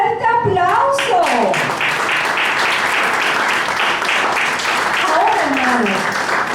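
An audience applauds for a travelling puppet theatre team at a church children's event: sustained, dense clapping with a few cheers, while a voice speaks over it at the start and near the end.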